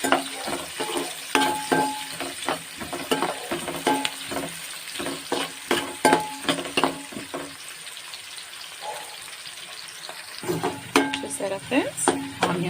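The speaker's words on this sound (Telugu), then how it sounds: "ఆనియన్స్ కొంచెం బ్రౌనిష్ కలర్ వచ్చే వరకు వేయించుకున్నాం" Onions fry in a little oil for a bitter gourd dish, sizzling under frequent metallic spoon clinks and scrapes against the pan, with a quieter stretch before the stirring resumes.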